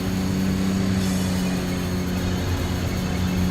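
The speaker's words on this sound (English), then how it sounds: "You can really hear the turbo going." A race car in the TXR Zero video game drones steadily with a continuous engine and turbo whine, loud and unbroken, with no talking.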